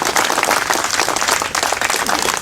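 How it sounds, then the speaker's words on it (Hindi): A crowd at a student protest rally claps loudly and continuously, a dense close wash of hands that holds at full strength for the whole stretch without any talk. "तो ताली बजाइए इसी पे"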